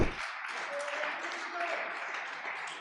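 A congregation at a Spanish-language church service applauds loudly. The clapping forms a continuous, dense wash that begins after a brief opening moment, and faint voices mix in.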